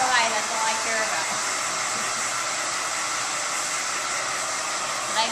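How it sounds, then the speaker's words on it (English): A hair dryer blows steadily while hair is blow-dried during a long layered haircut, a loud, continuous airy roar that holds unbroken throughout. "I like to just blow dry the hair any direction."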